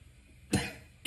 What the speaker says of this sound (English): I had a bad cough now.